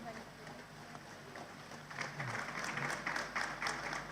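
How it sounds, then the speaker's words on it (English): Audience applause at a women's business festival panel on inclusive business growth, building from quiet murmur into a steady round of clapping in a hall, moderately loud, with some talk faintly underneath at the start. "Thank you for your applause."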